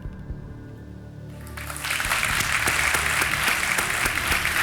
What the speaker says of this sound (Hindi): तालियों के साथ तेजस जी का स्वागत